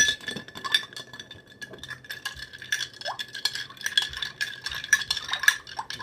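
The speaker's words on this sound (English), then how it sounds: "you stir it up" A spoon stirs lemonade in a glass with rapid, continuous light clinks and rattles against the sides, close by and alone.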